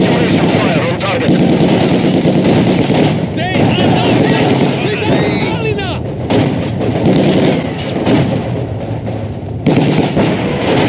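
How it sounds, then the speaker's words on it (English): Saturation gunfire and artillery fire in the Company of Heroes 2 video game, set in the Battle of Stalingrad: continuous dense machine-gun bursts and booming shots, loud and close, with shouted voices mixed through the battle. "Saturation fire on target."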